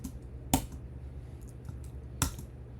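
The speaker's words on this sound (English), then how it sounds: "You can hear the typing." Two sharp, isolated key clicks from a mechanical computer keyboard, spaced well apart and fairly faint against a quiet indoor background.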